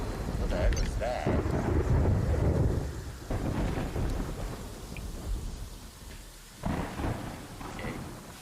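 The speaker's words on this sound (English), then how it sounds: "Did you hear the thunder?" A Terraria thunderstorm rolls on with deep, rumbling thunder over a steady hiss of rain, loud and continuous, swelling and easing in waves.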